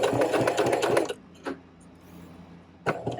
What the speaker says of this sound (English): And then after a few stitches, I'm back stitching.